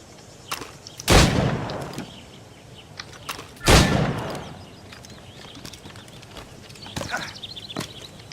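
Gunshots in Assassin's Creed Rogue, two loud close booming shots a few seconds apart with a long decaying tail, followed by fainter, scattered shots and game ambience.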